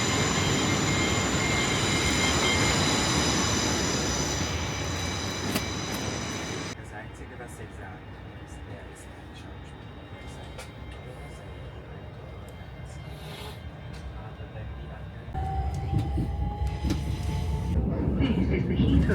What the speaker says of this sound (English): Well, here's the Heathrow Express.